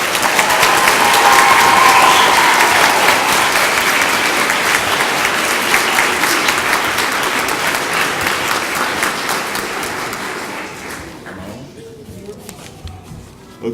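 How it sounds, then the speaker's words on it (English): An audience at a Nurse Aide and EMT recognition ceremony applauds a graduating group with sustained, dense clapping that stays loud for about ten seconds, then thins out and fades near the end. "let's give this whole group one more round of applause"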